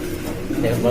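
Lakkha pigeons cooing in a low, throaty rumble, close and steady over a short moment, with a voice talking over them.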